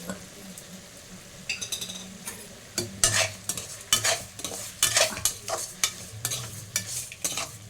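Garlic, ginger, garam masala and salt sautéing in a pan, a soft sizzle broken by repeated sharp scrapes and clinks of a spoon stirring against the metal, close and uneven in rhythm.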